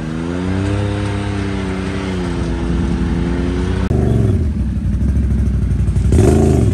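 A swamp bike on 63-inch tires riding through swamp, its engine droning loud and close with revving pitch swings and a clattering mechanical roar, then rising again near the end.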